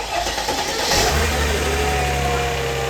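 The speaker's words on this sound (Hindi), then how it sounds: "This is the engine of the AMG." Mercedes-AMG engine running steadily and loud up close, with a deep sustained rumble that swells slightly after the first second, no talking over it.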